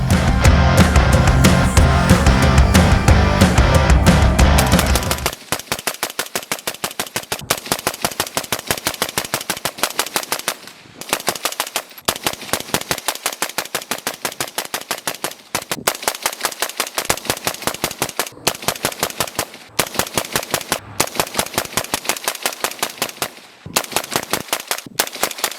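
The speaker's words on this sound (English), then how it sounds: "I wanted to see how it handled 500 rounds of accelerated fire." Full-auto gunfire through an OSS Helix Ti titanium suppressor during a 500-round burn down, a loud rapid rattle of suppressed shots in sustained bursts with only brief pauses, after a dense muffled opening.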